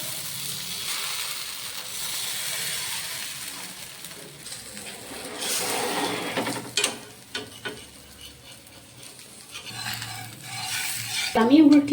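A Gobindobhog rice dish frying in a pan while being stirred and flipped, with close metallic scrapes and clinks of a utensil over a soft, continuous sizzle.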